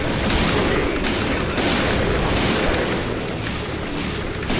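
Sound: gunfire in a video game

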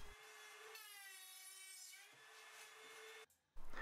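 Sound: router jig cutting finger joints in thick wood

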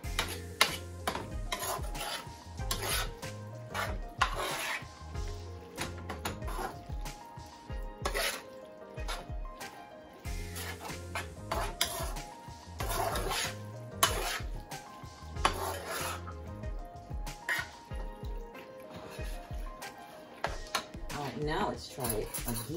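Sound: stirring stuffed bell pepper filling in a pot

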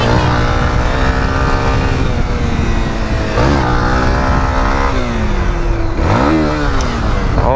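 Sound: Honda XRE-300 motorcycle engine, gear slipping into neutral

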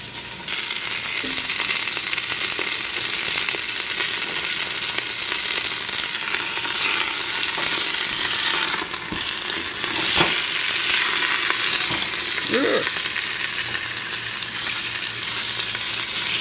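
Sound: sausage sizzling while browning in pot

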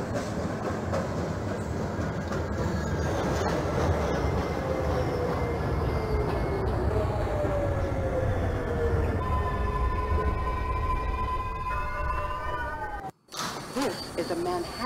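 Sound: subway train running in OpenBVE train simulator video game

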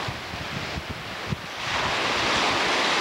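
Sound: wind and waves on a beach

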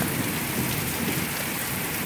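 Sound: heavy rain with thunder during a thunderstorm

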